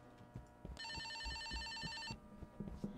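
A telephone rings in the horror video game Escape the Backrooms, one sustained electronic ring lasting over a second amid soft footsteps and game ambience, with no talking.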